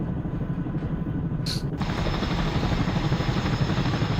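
Russian helicopter flying in the video game Arma 3, a loud continuous rotor thump and turbine roar that stays close and steady throughout, with a brief higher-pitched burst partway through and no voices.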